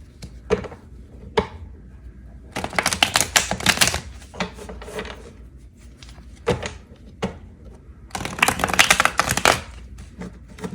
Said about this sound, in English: One more shuffle for pile 2.